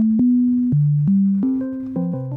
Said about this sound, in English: Just the sine wave.